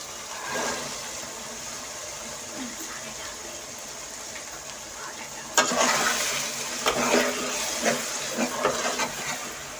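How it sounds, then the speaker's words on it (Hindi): Peas frying in a pan of prepared masala for an aloo matar pulao, a steady soft hiss with scattered clinks and scrapes of stirring that grow louder and busier partway through. "अभी हम इसे 2 से 3 मिनट भूनेंगे"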